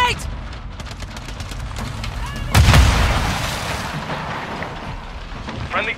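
A grenade detonates in the 2023 Modern Warfare 3 shooter, a loud booming blast about halfway through that decays into rumble, set amid continuous gunfire and battle noise with game voice callouts around it.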